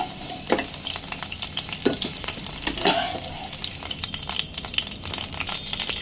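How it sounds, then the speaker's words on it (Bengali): Pointed gourd (potol) sizzles as it fries in hot oil, with frequent scraping and clattering strokes of a spatula stirring close by, uneven and busy over a constant hiss. "ঢাকা দিয়ে দিয়ে পটলটা নেড়ে চেড়ে দেখুন হালকা লালচে করে পটলগুলো ভেজে নিয়েছি।"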